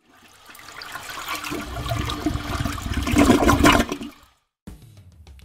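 Toilet flushes with a rising gush of rushing water that peaks and then drains away abruptly, followed by a brief gap and a faint refill trickle.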